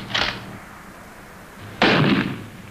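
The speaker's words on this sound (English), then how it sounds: "These are live bullets he's firing." Gunfire effect in a 1959 radio comedy, two loud, close single shots about a second and a half apart, each with a short echoing decay, no voices over them.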